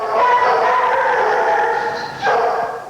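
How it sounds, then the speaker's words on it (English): Dogs kept for medical research bark and yip in a loud, close chorus, overlapping howl-like calls running continuously with a sharper burst near the end. "These are the dogs of medical research."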